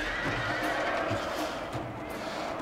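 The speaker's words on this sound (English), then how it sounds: "You just hear all these horses just dying." Horses whinny and shriek amid the dense, continuous din of an all-cavalry battle in the video game Total War: Shogun 2, with a voice talking over the clamor.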